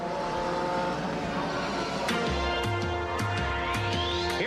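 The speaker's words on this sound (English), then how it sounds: "The cars are rolling." Open-wheel CART race cars roll out at Road America in 1994, a steady engine drone with repeated gear changes and revving, heard at a distance under a continuous broadcast hum.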